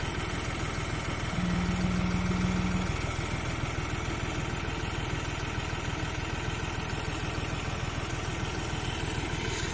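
A New Holland T3.75B tractor engine idles steadily nearby, a loud, even low-pitched chugging that holds without change throughout.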